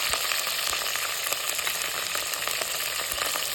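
Shallots, curry leaves and mustard seeds fry in hot oil as a steady, dense sizzle with faint crackles, close and continuous with no talking.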